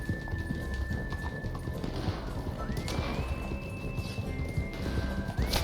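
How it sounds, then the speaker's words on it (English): Steady clip-clop of horse hooves while riding on horseback in a video game, continuous and fairly loud, with a short whinny and a rising tonal whistle over a busy background. "On horseback, bud."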